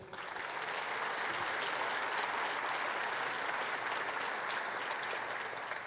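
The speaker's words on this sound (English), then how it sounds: "let's give a great round of applause to our great chairman of the NGA, Governor Hogan." A large audience at a National Governors Association gathering applauds Governor Hogan, with steady, dense clapping that fills the room at a constant level from start to finish.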